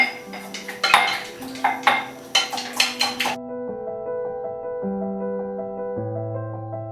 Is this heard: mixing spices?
yes